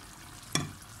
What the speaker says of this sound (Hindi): अब इसमें मैं चावल डाल रही हूँ, ये 300 ग्राम चावल हैं